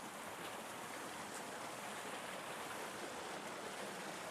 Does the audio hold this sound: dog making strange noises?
no